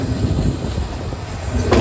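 The Meghna Express rolls along near Laksam junction in Bangladesh, a steady close rumble of carriage and wheels filling the whole short stretch with no voices.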